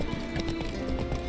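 Hooves of a horse clip-clop in The Witcher 3 video game, a quick, steady trotting rhythm at moderate volume with a faint musical drone underneath.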